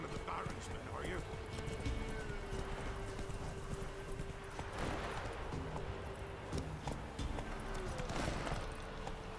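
Roach the horse in The Witcher 3 trots with steady, rhythmic hoof clops under ongoing in-game voices, at moderate level throughout.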